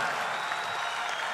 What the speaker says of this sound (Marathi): उभं राहून सर्वांनी उभं राहून टाळ्या